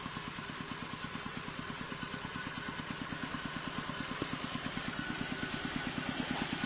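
A water pump engine set up beside a natural canal, running steadily outdoors with a regular low-pitched chugging pulse under a broad, constant mechanical roar.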